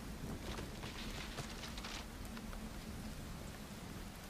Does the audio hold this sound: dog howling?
no